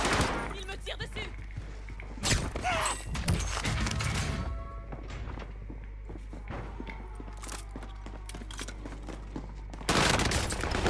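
Rapid bursts of gunfire crack through a Call of Duty Warzone match on Rebirth Island in Reinforced mode, close and loud, mixed with footsteps and thuds over a low steady hum. A voice speaks at times.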